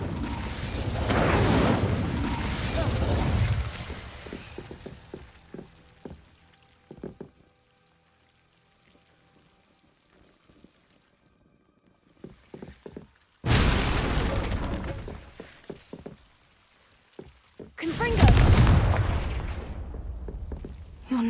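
Whooshing fire bursts from the Incendio spell in the Hogwarts Legacy video game, roaring up three times with a quiet stretch of faint clicks between them.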